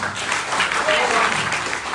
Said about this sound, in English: I would like you to clap your hand for yourself